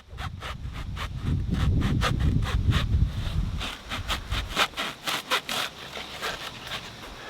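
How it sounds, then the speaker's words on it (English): A hacksaw blade saws through an old metal shooting target in steady back-and-forth strokes, close and loud, first as a dense continuous rasp and then as distinct, evenly spaced strokes toward the end. "So I also got this hacksaw blade, and I think because it's longer, it might work a little bit better"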